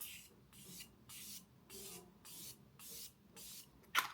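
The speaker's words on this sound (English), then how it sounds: "we're going to go in with our Morphe Jumbo Continuous Setting Spray" Quiet, close bursts of Morphe Jumbo Continuous Setting Spray repeat in a steady rhythm, about seven short hissing pumps in a row, followed by a small click.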